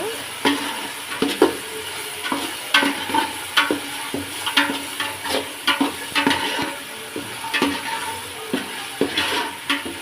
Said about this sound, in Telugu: ఇది కూడా ఇప్పుడు బాగా కలుపుతుంది